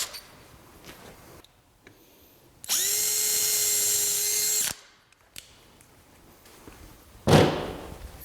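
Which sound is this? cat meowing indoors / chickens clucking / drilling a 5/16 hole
drilling a 5/16 hole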